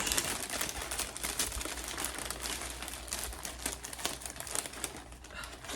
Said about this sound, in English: I don't know if you guys can hear me over the crinkling of this paper